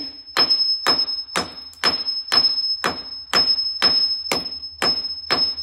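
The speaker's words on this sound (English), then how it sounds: "get a hammer or a big chisel" Sharp, evenly spaced hammer strikes knocking down ridges on a concrete floor, about two per second, a dozen blows close up with a faint ringing tone beneath.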